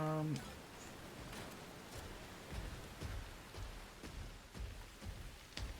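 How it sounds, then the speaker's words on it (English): Rain in a video game makes a faint, steady hiss with scattered drop-like ticks, continuing quietly in the background for several seconds. "rain is subsiding."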